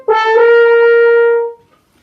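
A short musical motif for the Goldilocks character in a children's story, a single sustained bright tonal note with rich harmonics and a slight pitch lift at the start, clear and close, fading after about a second and a half.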